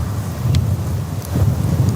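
Strong wind buffets the microphone in low rumbling gusts, steady throughout with a couple of brief higher rustles.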